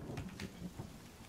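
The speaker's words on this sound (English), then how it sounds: "Oh goddamn, it's raining!" Rain falls in the survival video game The Forest, a soft, steady patter with faint low rumbles, fairly quiet and with no voices over it.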